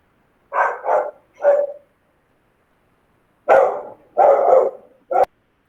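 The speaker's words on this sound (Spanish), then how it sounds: "Está ladrando mi perra de fondo" A dog barks in the background, two short bursts close together near the start, then after a pause a longer run of loud barks and yelps, with no talking in between.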